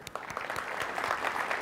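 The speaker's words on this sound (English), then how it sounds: "So please give yourself a round of applause." A conference keynote audience claps for a brief moment, a soft scattered applause that stays fairly quiet and distant throughout.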